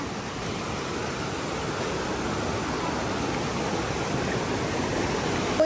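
Water flows continuously in a forest stream near Naran Kaghan, a steady broadband rushing and gurgling that stays loud and even from start to finish with no voices.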